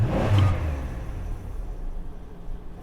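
A car engine bogging down around 3,500 RPM, starting loud and then falling into a labored, uneven low rumble that fades away, close by and with no speech.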